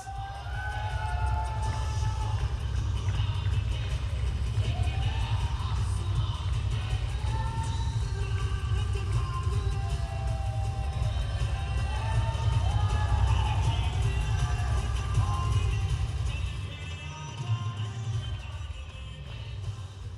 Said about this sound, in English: the cheering contingent is very, very loud